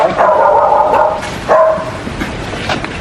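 A dog barks twice nearby, a drawn-out bark followed by a shorter one, then fainter background noise.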